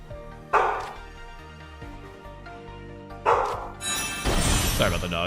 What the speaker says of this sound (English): Sorry about the dogs barking there in the background.